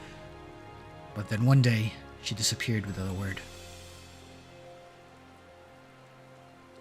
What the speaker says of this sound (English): It's just poetic that it's raining.